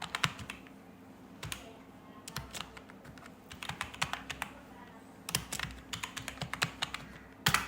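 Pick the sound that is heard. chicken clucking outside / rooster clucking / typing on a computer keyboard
typing on a computer keyboard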